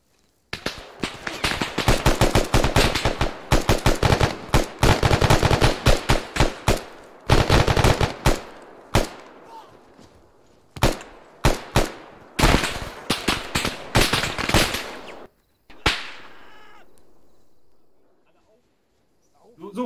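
Machine gun fire in the ARMA 3 military shooter during an ambush, dense automatic bursts near and loud for about fifteen seconds, then sparser shots and a fading tail.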